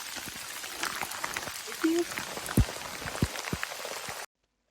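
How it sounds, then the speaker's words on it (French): Steady patter of rain on a surface during a hiking trek in France's Massif Central, with scattered louder drops landing close by and a faint hiss underneath. "C'est à ce moment-là qu'il a commencé à pleuvoir."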